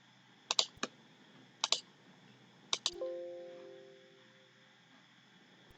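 A computer mouse clicks during an Excel lesson, giving four crisp, close double clicks spaced about a second apart in a quiet room, one followed by a brief fading tone.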